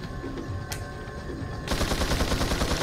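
Rapid burst of gunfire in the Resident Evil 4 video game, one sharp crack followed by a sustained, loud, rattling volley of close shots over a constant background drone.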